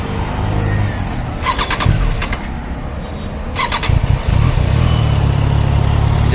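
A Triumph Tiger 660 Sport motorcycle engine cranks with a few clicking starter bursts, then catches and settles into a low, steady idle close by.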